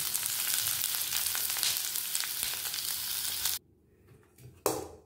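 Large-cut onions fry in hot oil in a pan, a dense, steady sizzle lasting several seconds with occasional stirring clicks, then suddenly dropping away to near quiet before a brief sharp burst of sizzle returns.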